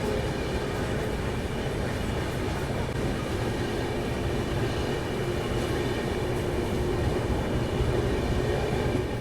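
The 12558 Sapt Kranti SF Express runs at speed, heard from inside a 2nd AC coach as a steady, unbroken rumble with faint wheel clatter throughout.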